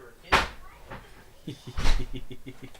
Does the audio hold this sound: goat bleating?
no